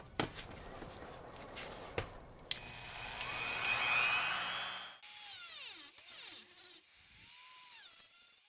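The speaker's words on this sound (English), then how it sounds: "go to town with this Dremel tool, see what we can get done" Dremel rotary tool grinding the plastic shell of a Nintendo Zapper, a high whining motor that rises and changes pitch as it bites, with short knocks at the start and a shift in tone partway through.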